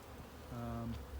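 A honey bee swarm clustered on a weighed-down tree branch, giving a brief, steady buzzing drone from bees flying close by over a constant outdoor background.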